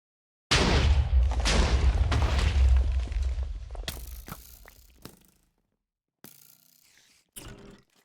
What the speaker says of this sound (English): Looks like the TNT supplies up here managed to destroy some of the chests up above.